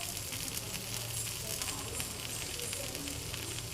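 Paneer masala dosa sizzles steadily on a hot pan, a constant dense crackling hiss that holds at even loudness throughout with no talking.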